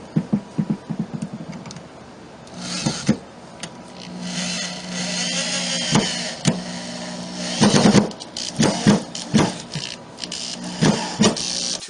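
A power drill drives 2.5 inch screws into lumber for a desk, with repeated short whirring bursts and knocks of wood close up, pausing between screws.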